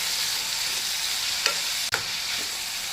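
A tempering of cashews and almonds roasts in a pan, giving a steady, close sizzle with a couple of sharp stirring clicks partway through.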